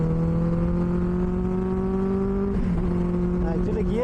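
A Benelli 600i motorcycle's exhaust pulls in third gear, a steady loud engine drone rising slightly in pitch, then briefly dipping and picking up again near the end.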